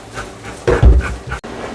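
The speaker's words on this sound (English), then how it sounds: "If you hear whining in the background," A dog whines and whimpers briefly in the background during a Golden Retriever grooming session, a short high plaintive sound over low rumbling and room noise.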